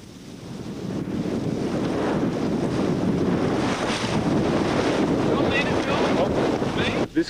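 A Tornado-class 20-foot racing catamaran speeds through wind and waves at a pre-Olympic regatta, with a loud, steady rush of water and heavy wind buffeting the microphone throughout.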